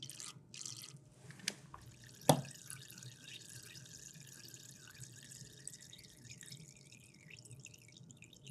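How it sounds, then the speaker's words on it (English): A glass bulb pipette is rinsed with water in a lab, with soft trickling and dripping, a couple of faint glassy clinks and a sharper tap, all quiet and close. "I'm going to use a 20 cm cube pipette for this, but first I need to rinse it out."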